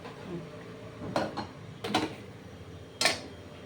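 A metal plate set down in a kitchen where paratha is being fried, giving three separate light clanks spaced about a second apart over a quiet background.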